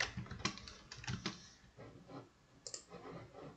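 Typing on a computer keyboard, giving close, quiet clusters of key clicks in short irregular runs with brief pauses between them.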